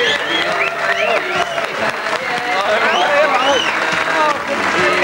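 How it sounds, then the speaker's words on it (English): A studio audience at a football-themed comedy show applauds and cheers, a loud, continuous wash of clapping mixed with whoops and excited shouting that carries on without pause. "Oh, the crowd have gone absolutely crazy."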